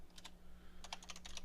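Quick clicks of a computer keyboard while Arch Linux is installed, a couple of keystrokes and then a fast, close burst of typing, crisp and fairly soft.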